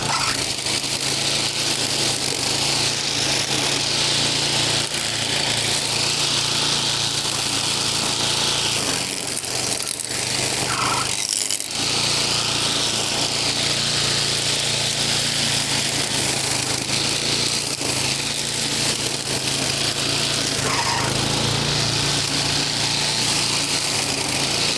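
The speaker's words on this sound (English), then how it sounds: "Now she's got a little bit of the belt squeal" A small engine runs steadily with a high, continuous belt squeal over a dense mechanical drone, close and loud throughout, with brief dips in the noise.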